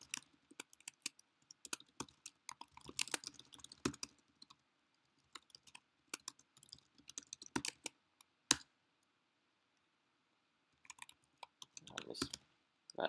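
Fast, uneven bursts of typing on a computer keyboard, close and fairly quiet, with brief pauses between runs of clicking keys.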